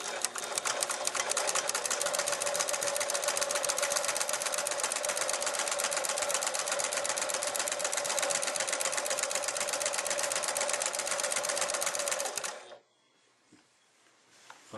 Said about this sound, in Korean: 그 다음에 노루발 내리시고 박아 보겠습니다.